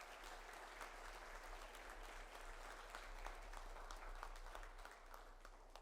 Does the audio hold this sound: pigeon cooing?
no